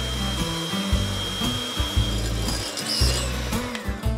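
Egg whites being whisked in a bowl for a basic meringue, a steady scraping, rubbing whisk rhythm repeating in quick strokes, close and fairly loud, with no one speaking.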